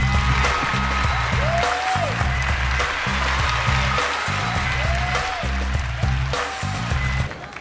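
Audience applause and cheering for comedian Melanie Comacho at Def Comedy Jam: a loud, steady roar of clapping over a thumping music beat that runs the whole time.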